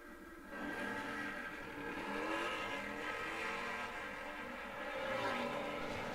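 A 2007 Road King motorcycle drag racing at the Cajun Nitro Nationals: a steady, loud engine roar that holds and swells over about six seconds, heard from a distance with no talk.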